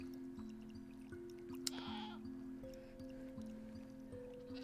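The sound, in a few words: goats bleating on a goat farm in Minecraft, video game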